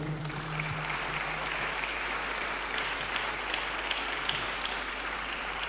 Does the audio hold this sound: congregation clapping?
yes